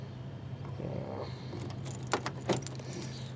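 A set of keys jangles in bursts of bright metallic clinks, loudest in two sharp rattles toward the end, over a steady low hum of a nearby car engine.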